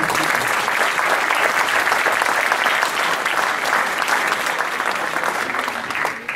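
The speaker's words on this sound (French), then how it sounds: "Donc quelques applaudissements aussi." Applause from attendees at a handball coaches' training course gathering, a full, steady round of clapping from a sizeable group that holds evenly for several seconds before tapering slightly at the end.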